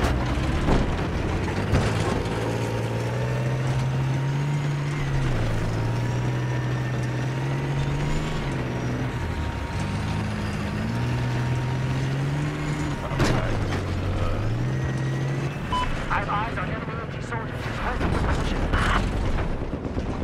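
A tank engine in the video game Battlefield 4 drones steadily, its pitch rising and falling as the vehicle moves, with occasional sharp impacts and voices talking over it.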